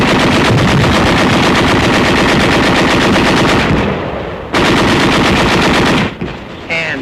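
Sustained bursts of automatic rifle and machine gun fire from infantry pinned to the ground against Japanese positions, a loud, dense rattling that drops out briefly twice before resuming.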